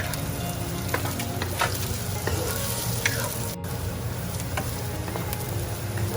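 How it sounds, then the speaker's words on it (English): Onion fries in a pan with a continuous, close, even sizzle and crackle, occasional stirring scrapes cutting through, and no voices over it. "Onion will cook till it loses its color."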